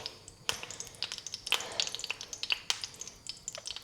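Green chillies frying in hot oil, a quiet crackling sizzle with sharp pops and spits scattered irregularly throughout, close up and without talk.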